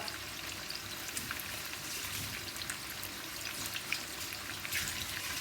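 Chicken fries in hot oil with a steady, bright crackling sizzle, close and continuous, with scattered popping spits.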